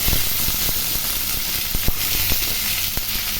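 Onion frying in hot oil with cinnamon and chilli while cooking drumstick leaves, a loud steady sizzle broken by scattered sharp crackles and pops, close up and without talk.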